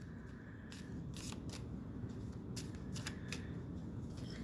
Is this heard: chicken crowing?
no